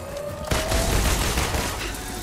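Gunfire aimed at the player in the Marvel's Avengers action video game, a loud dense burst of shots erupting suddenly and sustaining as a continuous barrage.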